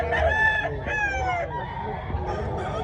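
A young stag rooster crows loudly nearby at a rooster expo in Talisay, Cebu, its call repeating over faint background clucking and murmuring voices.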